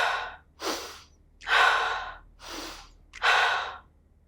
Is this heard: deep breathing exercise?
yes